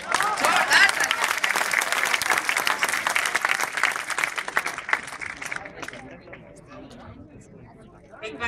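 Loud, dense applause from an audience at a Hindi poetry recitation. It runs for about five seconds, then thins out quickly and gives way to a speaking voice.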